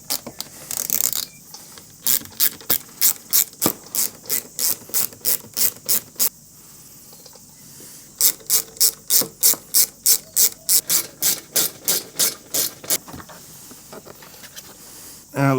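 A ratchet spins out T30 bolts from the body panels of a KTM 1290 Super Adventure R, close rapid clicking in two long even runs with a brief pause between, over faint background hiss.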